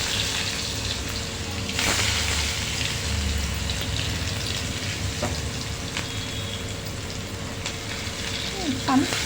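Onion, finely chopped garlic and cumin frying in a pan of oil for a horse-gram pithla, a continuous near sizzle and hiss with a few sharp clicks from stirring.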